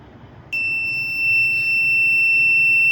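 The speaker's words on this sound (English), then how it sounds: "As soon as it detects rain, like the alarm will automatically be turned on" Piezo buzzer alarm on a DIY rain detection system, triggered when water is dropped onto its sensor, sounds as a loud steady high-pitched tone that starts abruptly and holds continuously without talk.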